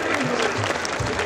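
An audience at a Buddhist dhamma conference in Nashik claps, a dense burst of applause with a voice speaking over it.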